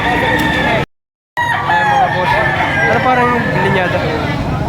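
Roosters for sale crow at a rainy livestock market in Padre Garcia, Batangas, loud nearby calls amid clucking, crowd chatter and a seller talking, with one brief dropout.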